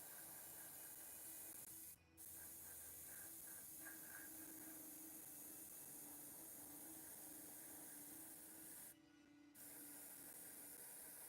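A Harder & Steenbeck Squidmar Ultra airbrush spraying paint onto a figure's face, a faint continuous hiss of air and paint with two brief pauses as the trigger is released.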